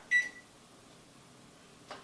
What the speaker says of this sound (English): So let me set my timer here.